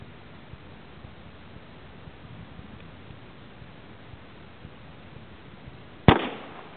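A single sharp shot from a .50 caliber gun cracks out near the end after several seconds of faint outdoor hiss, followed by a brief decaying echo.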